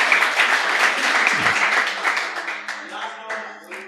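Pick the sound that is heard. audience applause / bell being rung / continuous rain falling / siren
audience applause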